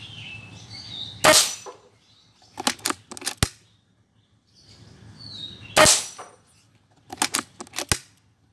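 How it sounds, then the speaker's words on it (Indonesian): A pre-charged pneumatic (PCP) air rifle without a regulator fires at a metal silhouette target 12 meters away: two sharp shots, each followed by a quick series of metallic pings and clangs, with quiet pauses between. "percobaan 5 tembakan pertama pada jarak 12 meter dengan menembak metal siluet"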